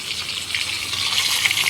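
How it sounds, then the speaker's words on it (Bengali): Hilsa pieces lightly frying in mustard oil, a soft continuous hiss and sizzle with faint crackles, close and fairly quiet for a brief moment. "মাছগুলোকে এপিট ওপিট দুপিট ভেজে নিলাম হালকা করে।"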